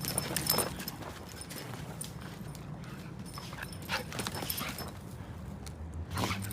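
Outdoors on a dusty concrete slab foundation site, a dog moves and makes scattered short sounds among scuffs and shuffles against a steady, moderately loud background.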